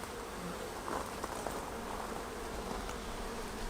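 Honey bees swarm around an open hive while frames are lifted out during an inspection. Their buzzing forms a dense, steady drone that holds unbroken throughout, close and even, with no voices over it.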